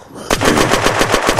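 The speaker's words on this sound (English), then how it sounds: "This gun's very loud. Like the loudest gun I think it was." A very loud automatic gun in Unturned fires a fast, even burst of about a dozen close shots in a row, starting abruptly after a brief quiet moment.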